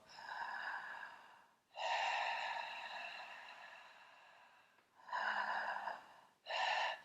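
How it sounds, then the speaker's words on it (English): Close, breathy mouth inhalations, four in a row. The first two are long, the last two shorter, each separated by a brief pause. "Breathing in through your mouth."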